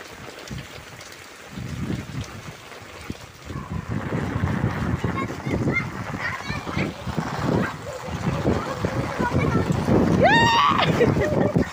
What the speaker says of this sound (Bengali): আর প্রচুর বৃষ্টি, প্রচুর বৃষ্টি, মানে শুধু পানি পড়তেছে